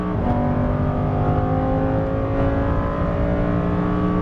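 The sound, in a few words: Lamborghini Huracan Performante engine accelerating on track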